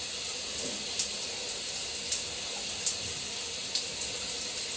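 Shower water running in a bathroom, a steady close hiss of spray falling with a few faint ticks and knocks over it, continuous throughout.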